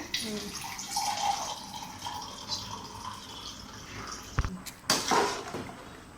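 Water runs and splashes into a cooking pot for chicken biryani rice, a soft continuous trickle with a few sharper clatters and splashes near the end.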